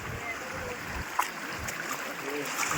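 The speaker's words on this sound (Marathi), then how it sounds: "डोंगरांच्या झऱ्यामधलं पाणी बघा" Rain-fed water running down mountain streams in a forest during monsoon rain, a steady broadband rushing wash that holds even throughout, with faint voice-like traces mixed in.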